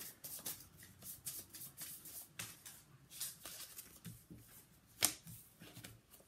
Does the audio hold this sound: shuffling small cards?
yes